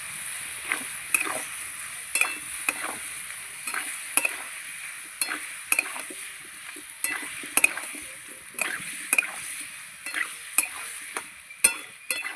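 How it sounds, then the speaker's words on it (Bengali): Young jackfruit is sautéed with spices in a pan, with a gentle sizzle beneath repeated sharp scrapes and clinks of a spatula against the metal at a steady stirring rhythm, up close and with no voices. "এবার আমি কষিয়ে নেব, মশলা সবজি দিয়ে কষাবো।"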